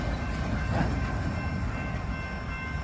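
A long freight train with double-stack container cars and auto racks rolls steadily past nearby in Southern Indiana, a loud continuous rumble and rattle of wheels on rail with no voices.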